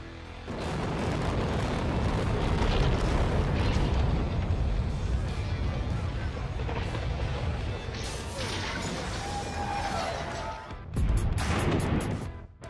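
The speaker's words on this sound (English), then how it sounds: "The process of building collapse by the explosion is impressive because it is accompanied by a loud sound" A building brought down by demolition explosives gives a loud, sustained crashing roar of collapse that rumbles on for about ten seconds before a few sharp cracks near the end.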